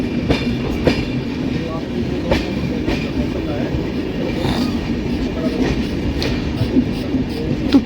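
Tamil Nadu Sampark Kranti Express pulling out of Bhopal Junction station at night, with a steady low rumble of rolling carriages and rhythmic clickety-clack of wheels over rail joints, close and continuous, with faint voices in the background.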